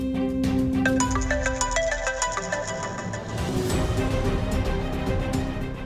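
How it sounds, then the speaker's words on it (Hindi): A phone ringtone plays loudly and steadily for several seconds, a repeating electronic melody over background music in a Hindi TV drama scene. "आकाश का फोन मुझे क्यों आ रहा है?"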